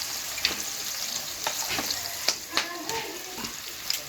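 Beef frying and sizzling in a pan during village cooking as ground spices are added, a steady hiss broken by stirring scrapes and clinks.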